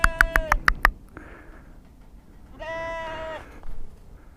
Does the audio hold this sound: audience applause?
no